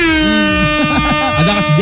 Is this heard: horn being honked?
yes